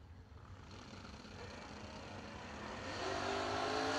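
A 1984 Mopar-powered Dodge Charger at a drag racing event revs and accelerates, a distant engine roar rising steadily in pitch and loudness.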